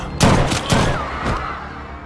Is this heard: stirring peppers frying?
no